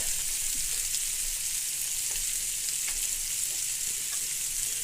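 Italian sausages fry in a pan with a steady, even sizzle and crackle throughout, with occasional faint clicks of stirring and no talking.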